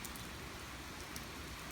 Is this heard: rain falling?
yes